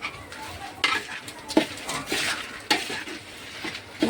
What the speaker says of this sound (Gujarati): હવે તેને એકદમ સરસ રીતના હલાવી લઈશું